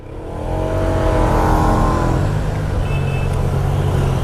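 A Yamaha Niken three-wheel motorcycle, a three-cylinder 850 cc with an Akrapovic exhaust, revs close by with a loud, deep engine note that climbs and then holds a steady high drone.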